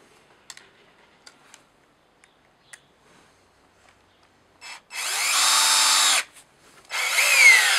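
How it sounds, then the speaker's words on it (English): A Hitachi DV18DCL2 cordless driver drill whirs loudly into a block of hardwood in two sustained bursts after a few quiet ticks and clicks, the second burst strained and rising. "so it will be more difficult for the drill to drill into the hardwood"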